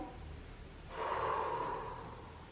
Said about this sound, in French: Quelques longues respirations.